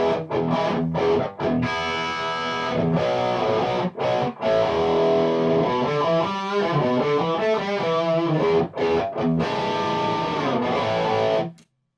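Electric guitar played through a Metropoulos Metro-Plex amp in Plexi mode with light overdrive, chords and riffs ringing with sustain over about twelve seconds before stopping, with no talk.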